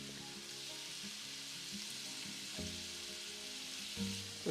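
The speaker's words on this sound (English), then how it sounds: "Nothing like some garlic browning in there." Garlic browning in a frying pan while a keto lunch cooks, a steady close sizzle running throughout with soft clinks and stirring scrapes on top.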